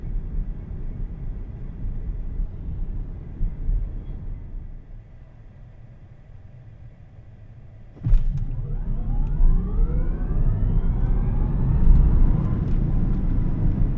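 2025 Tesla Cybertruck dual-motor accelerating hard from a stop: after a quiet cabin hum, a sudden surge of electric motor whine and road roar swells and climbs steadily, loud and continuous to the end.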